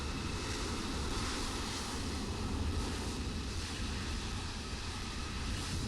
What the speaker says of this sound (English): I guess it's this jet over here.